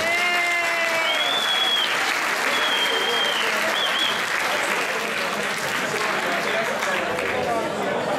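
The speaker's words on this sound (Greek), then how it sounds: "στην Κέλλη, στο στάτι και στο Νεκτάριο ένα μεγάλο χειροκρότημα να έχουμε." Loud, sustained applause from a crowd at an annual Greek community dinner dance, dense clapping filling the whole stretch, with cheering voices and a few whistles rising over it near the start.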